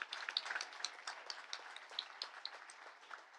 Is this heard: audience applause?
yes